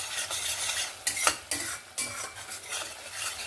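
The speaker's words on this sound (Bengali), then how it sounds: "চিনিটা দিয়েও ভালো করে নাড়াচাড়া করে নিয়েছি" Sugar being stirred into an egg curry masala in a pan, with a soft continuous sizzle and a few sharp utensil scrapes against the pan near the middle, close and moderately quiet.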